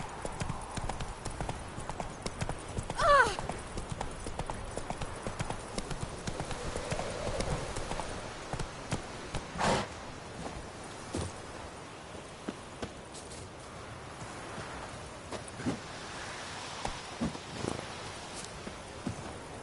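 Roach the horse walking in The Witcher 3, hooves clip-clopping in an uneven, moderately close rhythm over ambient game sound, with occasional louder thuds and a faint background voice.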